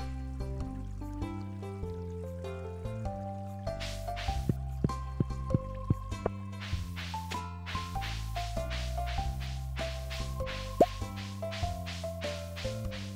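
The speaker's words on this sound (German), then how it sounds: "Aber ich könnte meine Gießkanne mal auffüllen." A watering can refilled in Stardew Valley gives soft, quick watery plops and drips under a steady, melodic game music track.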